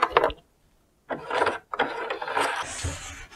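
Sewing machine stitching the pocket of a denim skirt, heard as short mechanical whirring runs separated by pauses, close and steady, with a brief clatter at the start.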